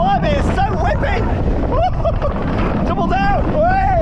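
Riders scream and whoop with rushing wind roar aboard Mahuka, the Intamin Hot Racer roller coaster at Walibi Rhône-Alpes in France, loud and close, with voices rising and falling over the constant blast of air.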